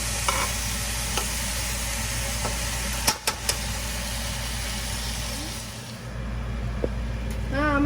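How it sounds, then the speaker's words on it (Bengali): Gobindobhog rice coated in ghee sizzles and scrapes as it is stirred in a hot pan, a steady close frying hiss with a few sharp utensil knocks midway, under a low background hum. "গ্যাসে আমি এর ভিতরে চালটা ঢেলে দেবো গরম চাল এই গোবিন্দভোগের চালটা আমি একটু ঘি দিয়ে মেখে রেখেছিলাম"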